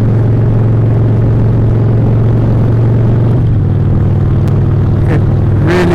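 2013 Harley-Davidson 1200 Sportster engine rumbling loud and steady on a ride, a deep continuous low drone that shifts slightly in pitch partway through, with faint rattles near the end and no talk.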